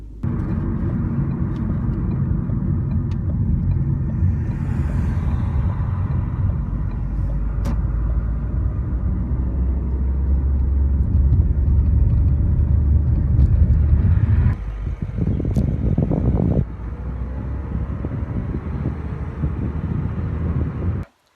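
A car being driven to the other side of an area, a continuous low engine and road rumble heard from inside, steady and fairly loud, with a brief shift in tone near the end before it cuts off.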